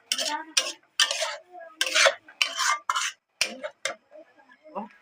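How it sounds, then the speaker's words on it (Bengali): A cashew and spinach paste stirred and sautéed in a pan for palak paneer, heard as a series of rhythmic, fairly close scraping strokes with short pauses between them. "এবার আর কিছুক্ষণ কষে নেব, যতক্ষণ না পালং শাকের কাঁচা গন্ধটা যায় ততক্ষণ কষে নেব।"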